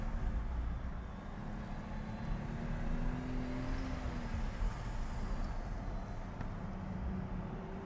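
Manual Toyota GR Supra lapping a race track, a steady loud engine drone with rising and falling pitch as it accelerates and shifts, heard from inside with continuous road and wind rumble.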